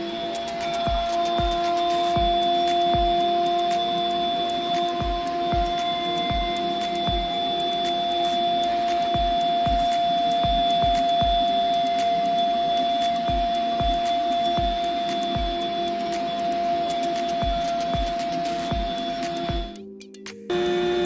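Electric pump steadily drawing air out of a Bestway air mattress, a constant motorized hum with a sustained tone and regular clicking pulses, continuing loud and close before cutting off abruptly near the end.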